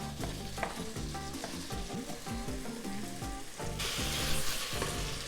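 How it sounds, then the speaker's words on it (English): Half a tomato and a piece of pepper sizzle and fry in a hot pot during Hungarian goulash cooking, with steady crackling and stirring scrapes close by that grow louder toward the end. "I'm adding a half piece of tomato, and a piece of pepper."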